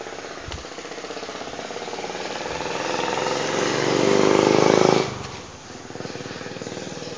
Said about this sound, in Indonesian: kedengaran suara motor wajar karena memang lokasinya di pinggir jalan